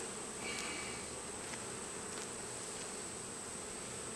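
Bees buzzing around an open beehive being reworked into a brood box, a faint, steady insect drone with a few individual bees passing close by.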